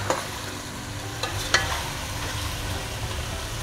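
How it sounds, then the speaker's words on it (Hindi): Chicken and potatoes cook together in a pot for a white chicken yakhni pulao, giving a steady close sizzle with a few soft stirring scrapes. "इसको भी थोड़ा सा इसके साथ ही पका लेते हैं ताकि आलू चिकन एक साथ ही गल जाए"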